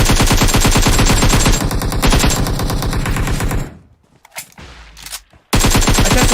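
Rapid automatic gunfire from PUBG Mobile, a dense continuous burst of loud rattling shots that stops abruptly, followed by a short lull with scattered single reports before another loud burst resumes.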